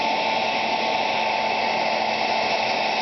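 A heat gun blows steadily on a doll's vinyl head to soften it, a constant close airy roar with an even hiss that never changes across the few seconds, no voices.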